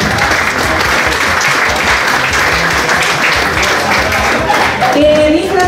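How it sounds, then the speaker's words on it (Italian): A crowd at a beauty pageant modeling event claps steadily for a dress, a loud, even wash of applause lasting several seconds, with a faint voice or music creeping in near the end. "Un applauso per l'abito, un applauso per Francesca."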